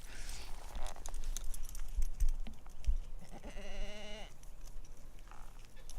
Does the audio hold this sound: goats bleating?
yes